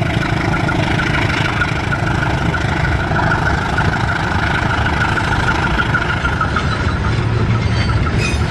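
A passenger train on the Indonesian railway passes close by in the rain, a loud, steady rumble of engine and rolling wheels that persists throughout without a break, with no talk.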